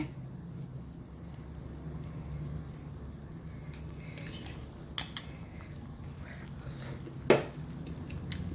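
Spoon scooping jungle-style chicken curry with bitter melon and eggplant from a bowl, a few light metallic clinks and scrapes spread over a quiet background with no talk.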